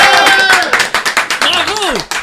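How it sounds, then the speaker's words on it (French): Quick rhythmic hand claps greet the winner of a game segment on a French-language television show, roughly a dozen sharp claps close to the microphone while a voice talks over them with rising and falling tones. "on peut l'applaudir, il a gagné."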